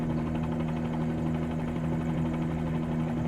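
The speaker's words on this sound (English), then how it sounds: "still absolutely enjoying flying this helicopter" A video game helicopter in flight gives a steady, low engine drone with strong humming tones and a faint rotor flutter, holding at an even level with no voices.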